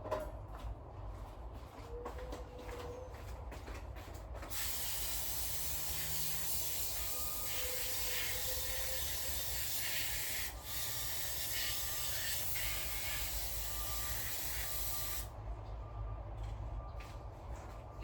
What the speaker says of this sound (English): Let me try to spray some of that out.